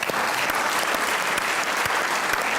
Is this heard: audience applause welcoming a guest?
yes